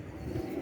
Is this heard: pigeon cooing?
yes